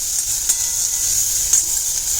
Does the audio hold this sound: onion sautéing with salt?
yes